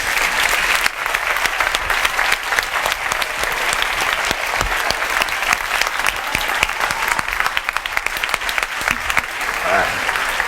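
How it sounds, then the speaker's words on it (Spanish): A live audience applauds loudly and continuously to welcome film director Álex de la Iglesia onto the stage at a talk on technology and cinema. The clapping is dense and close. "le vamos a recibir con un fuerte aplauso"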